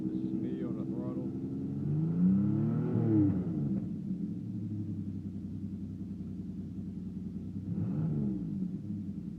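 Pontiac Firebird V8 with an aggressive, cam-like idle as the throttle is blipped, a deep rumbling idle rising and falling in two revs, the second rev fainter than the first.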